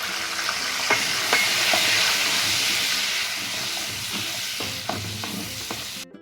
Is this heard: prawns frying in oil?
yes